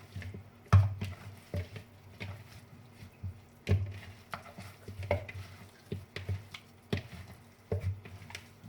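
Marinade for mutton mandi, with oil and yellow food colour, being stirred and mixed by hand in a bowl, giving soft wet squishing and stirring strokes in an irregular rhythm, close and fairly quiet with no talking.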